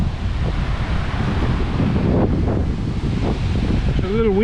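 Strong gusts buffet the microphone at Burrum Point beach at high tide, a loud continuous roar with surf beneath it and a brief voice near the end.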